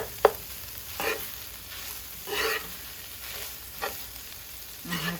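Fish frying in a pan over medium heat, a steady soft sizzle broken by several bursts of louder crackling and one sharp tap near the start, with no voices.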